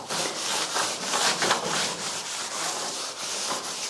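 Oak wood is rubbed clean by hand before painting, a close, rhythmic scratchy scrubbing repeated in quick strokes for several seconds.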